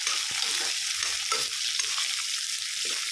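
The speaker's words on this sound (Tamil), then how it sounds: "வெங்காயம் நல்லா வதங்கட்டும் எண்ணெயில் நல்லா வதங்கி எடுத்துக்கலாம்" Onion sauteing in oil in a pan for beetroot chutney, a dense continuous sizzle at steady loudness with occasional soft scrapes from stirring, close up, no voices.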